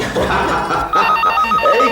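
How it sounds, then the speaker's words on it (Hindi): A telephone rings in a domestic drama scene, a repeated electronic bell tone in short bursts, brief and fairly loud, with some background sound underneath. "किसका फोन आया?"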